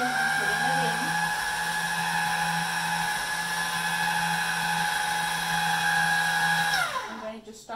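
A hand-cranked or motorized pasta machine rolls egg noodle dough through the third notch, a steady high whine that holds for several seconds and then winds down as it stops.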